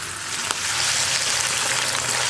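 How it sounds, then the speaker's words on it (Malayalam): French fries frying in hot oil give a steady, loud, close hiss and crackle throughout, with no voices. "പിന്നെ നമുക്ക് ഫ്രഞ്ച് ഫ്രൈസ് ഫ്രൈ ചെയ്തെടുക്കാം."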